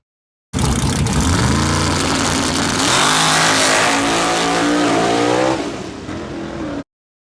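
A loud race car engine at an outlaw race night roars and revs up through the gears, pitch climbing and dropping, then fades slightly before cutting off.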